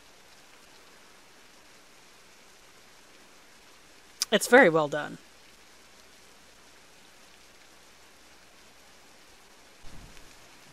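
Rain in the video game Beasts of Bermuda gives a soft, steady hiss throughout, with a short burst of speech over it.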